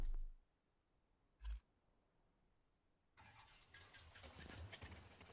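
A car engine in Scrap Mechanic, a makeshift game vehicle with no front wheels, starts and revs with a rising mid-range drone after a short thump, fairly quiet and heard on its own.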